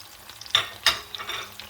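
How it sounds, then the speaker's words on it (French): Garlic, onion, bell pepper and tomatoes with cumin, curry, salt and pepper are stirred in a sizzling pan for a Tunisian sauce, with two distinct scraping stirs over a steady close-up fry. "Je vais mélanger."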